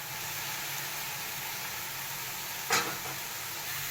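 Steady frying sizzle and hiss in a pan of garlic as 1.5 kg of beef for nihari goes in, with one brief louder burst of spattering partway through, close and even throughout.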